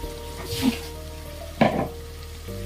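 Beef is stirred with spices in a hot pan, giving a close sizzle with two sharp scraping stirs and a low hum underneath.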